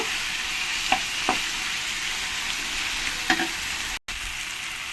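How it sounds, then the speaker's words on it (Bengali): Chopped tomato frying and being stirred into spice paste for a jackfruit curry, a constant hiss of sizzling oil with a few soft scrapes of the spoon, close and uninterrupted by voices. "টমেটোটা দিয়ে দেবো দিয়ে ভালো করে আমি মশলার সঙ্গে কষিয়ে নেব"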